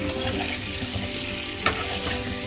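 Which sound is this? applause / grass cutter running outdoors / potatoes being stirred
potatoes being stirred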